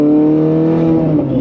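A Ferrari engine warming up idles with a steady, low droning rumble, loud and close, holding an even pitch with a slight dip near the end.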